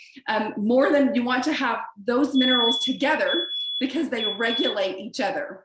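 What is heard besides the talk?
smoke alarm beeping indoors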